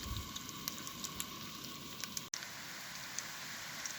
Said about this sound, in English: And here we go, frying nicely on a medium heat.